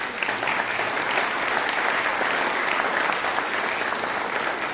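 Festival audience at the closing ceremony of the FICAM film festival breaks into sustained applause, a thick, even roar of many hands clapping that continues at a constant level throughout.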